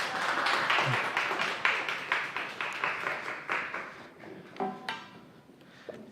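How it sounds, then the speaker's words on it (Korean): A church congregation claps to welcome a pastor to the front at a Sunday worship service, moderately close applause that thins into scattered individual claps and fades near the end. "목사님 나오실 때 큰 박수로 환영해 주시면 감사하겠습니다"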